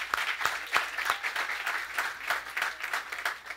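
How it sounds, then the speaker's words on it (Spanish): Applause from a church audience welcoming a couple of pastors from Bogotá, Colombia, as a singer launches her first single; steady, moderately loud clapping from a modest crowd with a few sharper claps standing out. "un aplauso"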